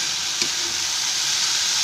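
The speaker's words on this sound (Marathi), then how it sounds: "आता कांदा पण चांगला झाला आहे, भाजला आहे." Onions and potatoes fry in a pan for tomato bhaji, giving a steady, even sizzle with one faint clink near the start and no talking.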